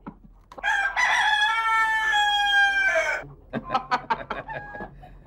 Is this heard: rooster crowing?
yes